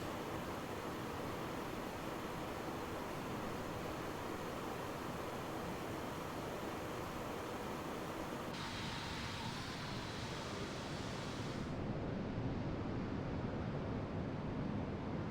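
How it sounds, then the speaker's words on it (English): Wind rushes past an Airbus A330 in the X-Plane 12 flight simulator as a constant, loud, broad hiss with no gaps. The tone shifts slightly partway through, and no one speaks. "I do like how you can hear the wind out here, though"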